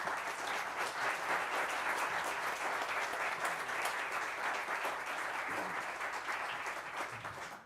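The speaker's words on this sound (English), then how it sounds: "they deserve a round of applause" A large audience at a youth jazz orchestra concert claps steadily, a dense wash of applause that holds evenly before tapering slightly at the end.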